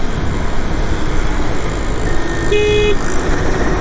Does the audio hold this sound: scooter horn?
yes